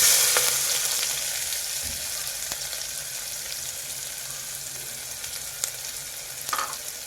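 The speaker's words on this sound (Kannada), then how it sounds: "ನೋಡಿ ಇದೇ ಎಣ್ಣೆಗೆ ನಾನು ಜೀರಿಗೆನ ಹಾಕೋತಾ ಇದ್ದೀನಿ ಮತ್ತು ಈರುಳ್ಳಿನ ನಾನು ಹಾಕೋತಾ ಇದ್ದೀನಿ" Cumin seeds and onions frying in hot oil for Punjabi-style dum aloo, a steady loud sizzle that continues throughout, with a few soft stirring knocks.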